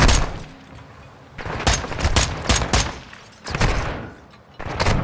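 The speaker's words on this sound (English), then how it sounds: "Oh my god, who's shooting? Who's shooting?" Bursts of automatic gunfire in the video game Call of Duty Modern Warfare II, several loud volleys separated by brief pauses, with heavy low thumps under the sharp cracks.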